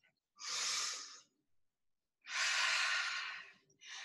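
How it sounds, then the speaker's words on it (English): Two long, deep breaths fill a quiet room during a hip-focused fitness class, each a loud, airy rush lasting about a second, with a third inhale starting at the end. "Take a deep breath."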